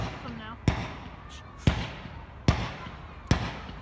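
Fireworks bursting at night during a Bonfire Night celebration, four sharp distant bangs spaced about a second apart over a low murmur of background noise.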